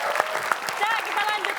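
Brief applause from a game-show audience, a busy patter of hand claps under overlapping voices and crowd noise.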